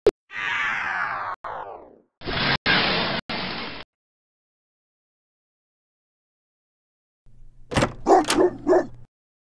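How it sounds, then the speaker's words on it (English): Animal calls for a children's farm-animal lesson: two drawn-out, loud cries in turn, broken by short gaps, then after a pause a burst of several quick, clipped barks. "Dog."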